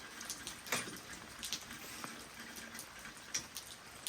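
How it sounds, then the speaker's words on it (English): Rain falls outdoors at a home gym as a faint, steady patter, with scattered individual drops ticking on surfaces nearby. "The rain has started to come down again."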